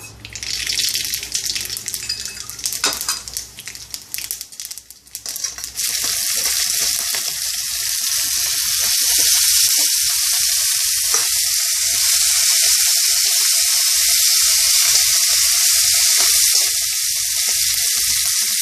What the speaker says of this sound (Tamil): எண்ணெய் காஞ்சிடுத்து இப்போ வந்து கடுகு ஜீரகம் தாளிச்சிக்கலாம்